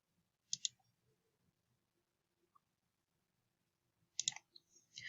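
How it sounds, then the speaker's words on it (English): Two quick computer mouse clicks, crisp and close, a double tap near the start and another pair after a long quiet pause, alone without talk. "I'm just going to click on this first article"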